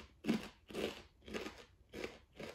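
Five faint, rhythmic crunching bites of a Panera Bread chicken sandwich, close to the mouth and evenly spaced, with no talking.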